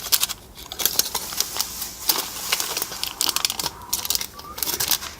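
Sheet of paper being folded to make a propeller for a Christmas pyramid craft, a close run of crisp crinkles, creases and taps at uneven intervals, moderately loud, no talk.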